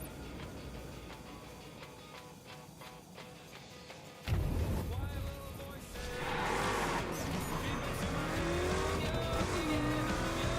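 A car in the video game The Crew idles low, then revs up sharply and accelerates, engine note climbing and shifting over several seconds, with a tire squeal and no speech.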